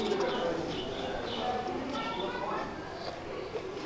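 Soft cooing of breeder pigeons mixed with steady talking voices, with a continuous background murmur throughout.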